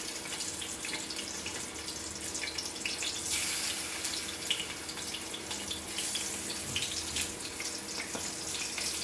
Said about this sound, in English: Now I will just fry this.